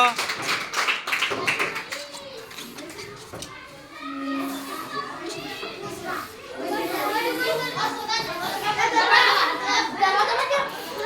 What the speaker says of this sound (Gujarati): જોરદાર તાળીઓના ગડગડાટથી પ્રિયંકાબેનને વધાવી લો